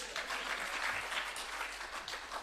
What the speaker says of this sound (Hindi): इसका तो आपको तालियों से स्वागत करना चाहिए।